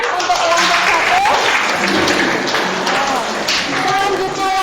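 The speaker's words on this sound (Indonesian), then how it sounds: "Boleh pastikan tepuk tangan untuk kelompok 1." A school class claps for a group of students in a busy, continuous round of applause, with voices mixed in.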